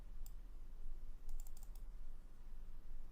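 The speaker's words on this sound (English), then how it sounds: "I'm just typing top singer." Keys clatter on a computer keyboard in short bursts, a few quick clicks then a faster cluster of taps, close and fairly quiet over a low steady hum.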